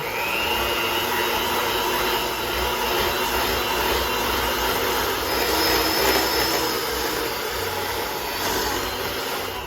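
An electric mixer beats butter and sugar for a coffee cake batter, a steady, loud whirring motor drone with a high whine that holds constant throughout, alone without talk.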